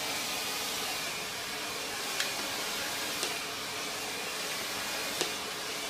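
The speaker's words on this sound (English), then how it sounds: "you want to create as much bend and shape with your blow dry on its own" A hair dryer blows steadily and close up while styling hair, making a continuous even whoosh with a few faint clicks, alone without talk.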